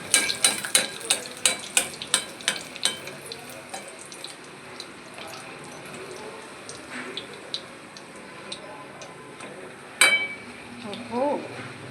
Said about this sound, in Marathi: मी तेल गरम करायला ठेवलं आहे आणि पुऱ्या मी इथे लाटून ठेवलेल्या.